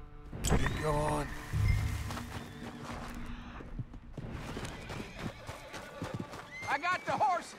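Horses in the video game Red Dead Redemption 2: a loud whinny near the start, hooves clopping through the middle and more neighing toward the end, under a voice speaking.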